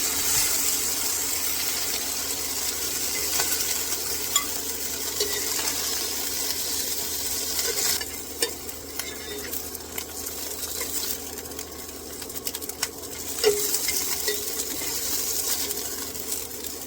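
Broccoli stir-frying in a pan with beef gives a steady, fairly loud hiss of frying, broken by occasional small clinks and scrapes, with no voices.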